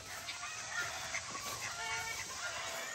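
Backyard garden fowl, with ducks among them, make clucking and honking calls over steady broad outdoor noise. The calls are scattered and moderately close, with no speech.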